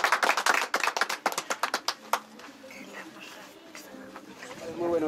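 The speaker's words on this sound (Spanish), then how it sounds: "Aplausos." A small crowd claps at a village patron-saint festival in Cajamarquilla, with a quick burst of sharp, close handclaps that fades within about two seconds into background chatter and talking voices.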